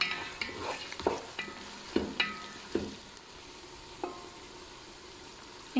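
Grated peppers and carrots being stirred and sautéed in a pan, with a soft steady sizzle broken by several sharp scrapes and clinks of the spoon against the pan, heard up close and with no talking.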